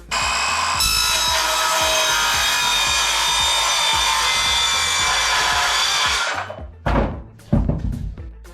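A power saw cuts through a laminate flooring plank, giving a loud, steady, close whine for several seconds that ends abruptly, followed by a couple of knocks and thumps as the plank is handled.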